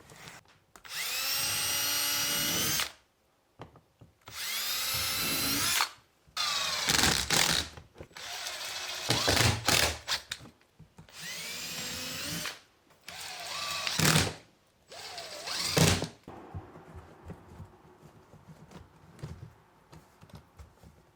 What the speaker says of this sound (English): I'm gonna pre-drill a hole here and here and put some screws in